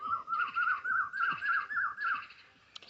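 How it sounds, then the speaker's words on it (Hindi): A koel sings in a garden, giving three clear rising whistled phrases in a row, fairly close and alone, followed by a brief faint click. "राम को कथा सुन के कोयल बहुत खुश है"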